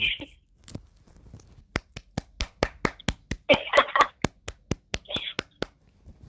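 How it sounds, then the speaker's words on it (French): A few people clap in a quick, uneven burst of sharp, close handclaps, with brief voices cutting in partway through. "Donc on va t'applaudir alors."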